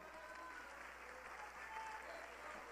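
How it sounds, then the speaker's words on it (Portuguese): A congregation in a Portuguese-language church service gives a round of applause, a quiet, even spread of clapping heard from a distance with faint room hum beneath. "Dá uma linda salva de palmas ao Senhor."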